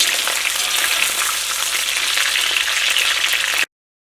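Chicken pieces deep frying in hot oil for chilli chicken, a loud, steady, dense sizzle that holds evenly throughout before cutting off abruptly near the end.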